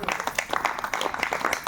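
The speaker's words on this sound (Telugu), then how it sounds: "గట్టిగా చప్పట్లు కొట్టు." A crowd at a worship gathering claps loudly in a quick, steady rhythm, with sharp repeated hand slaps filling the short stretch.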